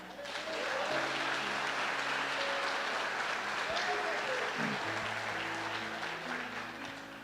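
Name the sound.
church congregation applauding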